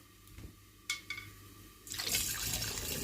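Homemade apple cider vinegar is poured into a container, a few faint clinks first, then a loud, rushing stream of liquid filling the last second or so.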